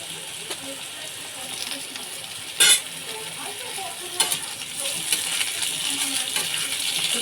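Potatoes frying in a pan for homestyle khichuri, with a steady sizzle, a few sharp metallic clinks of a spoon against the pan and occasional stirring, close and moderately loud.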